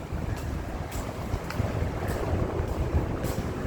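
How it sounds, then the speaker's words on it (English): Steady wind roars and buffets the microphone in an open, airy hall of a new condominium building, a continuous low rush with occasional stronger gusts and no one talking. "So it's very, very windy at this part here."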